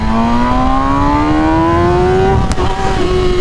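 A 2021 MV Agusta Rush motorcycle pulls hard in third gear, its engine note rising steadily and loudly throughout with a brief sharp disturbance near the end.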